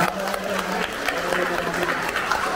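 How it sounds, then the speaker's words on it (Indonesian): A crowd clapping steadily throughout, dense and fairly loud, with some voices mixed in. "tepuk tangan untuk kita semua."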